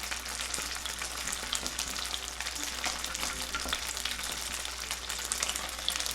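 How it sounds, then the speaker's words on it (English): Round grits cakes frying in a pan for shrimp and grits, a soft, steady crackling sizzle with fine spattering pops over a low hum. "And then we're just going to fry them in the pan."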